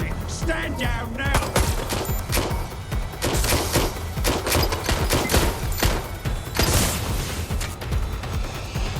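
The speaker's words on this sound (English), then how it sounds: "Gunfire!" Rapid, dense gunfire in the video game Watch Dogs Legion, bursts of automatic shots and booms firing near and loud almost without pause throughout.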